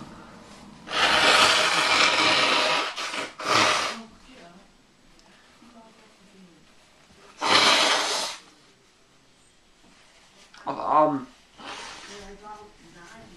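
Several loud, breathy nose blows in separate bursts, close up, with short pauses between them and a brief voiced sound among them.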